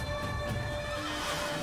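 Short burst of a horse neighing while hooves clatter in Assassin's Creed, close and fairly loud over a steady background tone.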